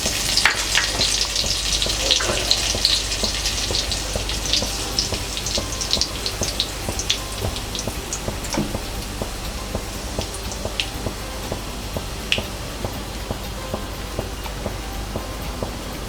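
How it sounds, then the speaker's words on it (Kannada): Cumin seeds sizzling and frying in hot oil, ghee and butter for tawa pulao, a steady crackling fry with small pops and spits, close and continuous with no talk. "ಎಣ್ಣೆ, ತುಪ್ಪ ಹಾಗೂ ಬೆಣ್ಣೆ ಚೆನ್ನಾಗಿ ಕಾದಿದೆ. ಅದಕ್ಕೆ ಸ್ವಲ್ಪ ಜೀರಿಗೆಯನ್ನು ಹಾಕ್ಕೊಳ್ಳೋಣ."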